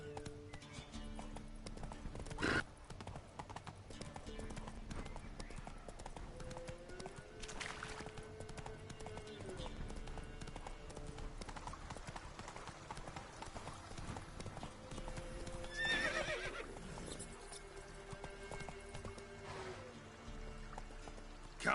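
Horse hooves clip-clop steadily at a gallop in The Witcher video game, with a brief whinny near the start and another midway, while someone talks over the ride.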